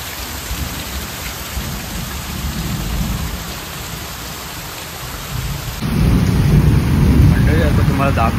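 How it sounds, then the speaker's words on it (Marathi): Heavy monsoon rain pounds down in Konkan as a dense, loud, continuous roar close by, growing heavier and fuller partway through, with faint talk near the end. "आणि मुसळधार पाऊस पडतोय इकडे"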